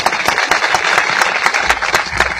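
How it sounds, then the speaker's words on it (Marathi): Crowd at a Shiv devotees' gathering in Murbad applauding a shahir after his powada, sharp overlapping hand claps in a lively, uneven burst that stays loud for the whole stretch, no voices over it. "यांच्यासाठी एक जोरदार टाळ्या करा परत।"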